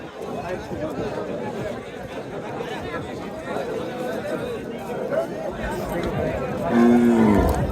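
Bullocks and cattle at a crowded livestock market in Chaubaria, Naogaon, with someone talking over a busy murmur of voices and a cow lowing briefly near the end.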